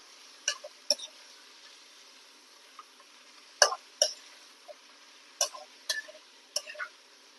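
Sharp crackles and pops from sliced ivy gourd frying in hot oil, arriving in scattered clusters with brief quiet gaps, close by.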